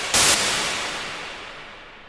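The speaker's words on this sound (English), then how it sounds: "So I just got a white noise burst." A single short burst of white noise from a synthesizer in Ableton Live 11: a loud broadband hiss that cuts in sharply, then decays smoothly into a fading tail.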